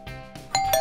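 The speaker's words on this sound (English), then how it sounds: "It sounded like a doorbell." A doorbell chimes with two bright electronic ding-dong tones in quick succession, fairly close and clear, with no talking.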